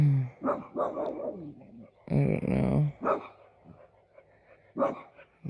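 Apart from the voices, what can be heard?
dogs barking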